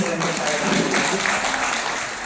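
Dense audience applause at a state-level award ceremony, a close, loud burst of many hands clapping that fades slightly at the end.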